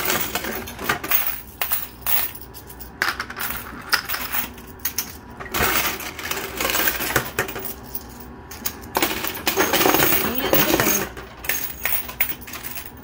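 Coins and silver pieces tumbling and clattering inside a coin pusher arcade machine, a dense, loud metallic jangle with repeated cascades and rattles over mechanical whirring, going on throughout.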